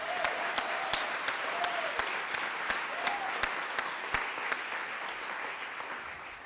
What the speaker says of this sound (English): if you please join me in a round of applause for Oregon Black Pioneers